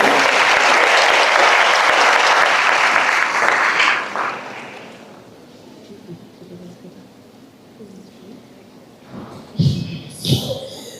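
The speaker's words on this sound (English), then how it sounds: "I will welcome Hadija on stage. Clap for her, please." Loud, dense applause from a graduation ceremony audience greets a graduate on stage, then fades after about four seconds into a quiet room where brief voices speak near the end.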